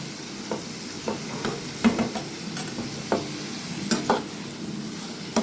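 Ash gourd being mixed with salt and turmeric in a pan for a hilsa fish head curry: a spatula scrapes and stirs in repeated, irregular strokes over a soft, steady sizzle, fairly close, with no talking.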